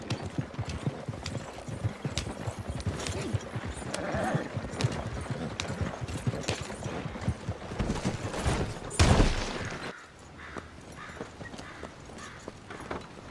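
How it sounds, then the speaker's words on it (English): Horse-drawn wagon rolling along in a video game, steady clip-clop of hooves with wheel rumble, scattered sharp gunshot-like bangs around it, and a brief louder burst near the end before the sound thins out. "Stop the wagon just ahead"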